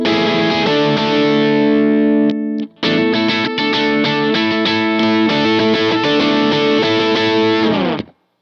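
Electric guitar run through an overdrive pedal stacked with a boost, giving a throaty, mid-heavy rock tone: loud sustained distorted chords and notes, a brief break near the start, then steady strummed playing that stops abruptly.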